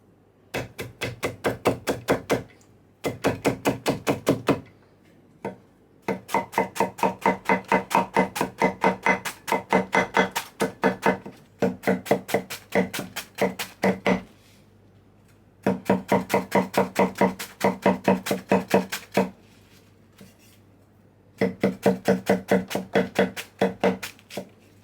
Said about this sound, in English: So I'm gonna chop up my veggies.